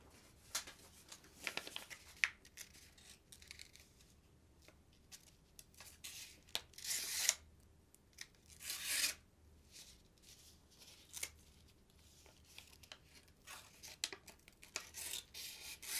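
A Higonokami folding knife cuts through a sheet of paper in a quiet room, giving soft scraping and rasping slices with a few sharper, brighter swipes, close and fairly faint, with no talking.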